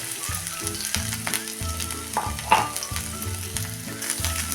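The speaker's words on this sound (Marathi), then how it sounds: "तेल गरम झालं की आता त्यामध्ये टाकूया ह्या चार हिरव्या मिरच्या आणि सहा सात लसूण पाकळ्या" Crushed green chillies and garlic cloves frying in hot oil, a steady close sizzle with a few stirring knocks and scrapes against the pan.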